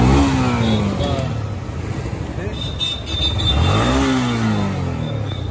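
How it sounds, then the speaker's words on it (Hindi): A Yamaha MT15 motorcycle engine revs up nearby, rising and falling in pitch over a steady loud idle, with someone talking over it. "ये वाली बाइक है भाई MT15 जो कि वो बंदा ले रहा है"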